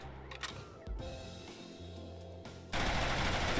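Gunfire from the video game Neko Arena, with rapid bursts of shots and then a loud, sustained stream of automatic fire at the end.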